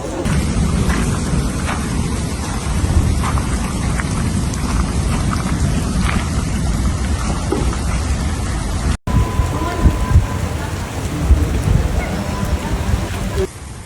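A heavy storm over Istria, Croatia, with dense steady downpour and rolling thunder rumbling throughout, loud and close; the roar briefly cuts out midway, and faint voices may be buried under the rain.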